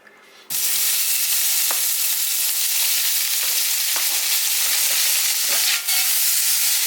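Food browning in hot olive oil for a Hawaiian pizza topping, a loud, continuous close-up sizzle that erupts suddenly after a quiet start and holds steady with occasional crackles and stirring taps.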